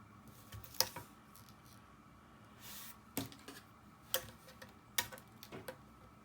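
Tape is applied to a paper page of a 9 x 9 mini album: quiet close crackles and sharp ticks as the tape is pulled and pressed down, a few separate snaps over faint background.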